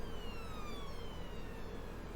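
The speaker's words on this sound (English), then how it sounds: "Wait for this police car to go past." Police car siren in Farming Simulator 19 on a Sandy Bay farm map, its descending wail steady and loud across the whole stretch over a constant low road and engine rumble, with no talking.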